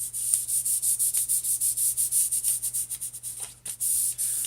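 Elastic therapy tape is rubbed briskly onto the skin in quick repeated strokes, a close, rhythmic hissing friction with no talk.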